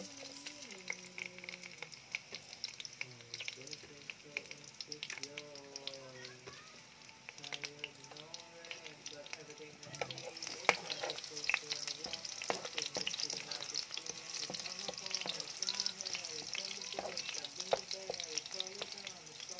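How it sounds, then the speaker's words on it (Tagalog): Garlic sautés in oil in a pan, a quiet, steady sizzle that grows louder and fuller halfway through, with scattered spatula scrapes and a voice speaking intermittently over it. "Magigisa na tayo guys. So guys, unahin natin yung bawang."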